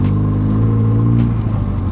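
A turbocharged Honda Jazz engine revs close by in a short, loud burst, its deep rumbling tone rising and falling over about two seconds.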